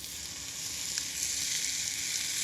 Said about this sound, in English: put the meat in, wait for the sizzle